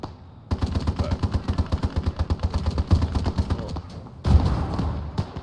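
Dense gunfire and a Panzerfaust anti-tank blast in the Gates of Hell: Ostfront WWII game during a night battle at Nevel, a rapid rhythmic machine-gun stream with a heavy boom near the end, loud and close.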